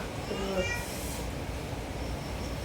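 A single short cat meow rises near the start, then soft background noise.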